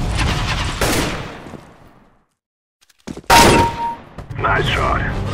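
Gunshots ring out in CSGO, a sharp crack near the start and another loud report after a near-silent pause, each trailing off into game noise, with talking in the background.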